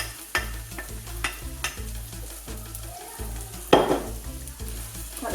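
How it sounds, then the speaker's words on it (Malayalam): Washed rice stirred into chicken biriyani masala for a Kerala-style biriyani, with rhythmic scraping strokes against the pot and a soft sizzle underneath, plus one louder clatter midway. "ഇനി ഇതിലേക്ക് റൈസ് ഇട്ട് കൊടുക്കാം."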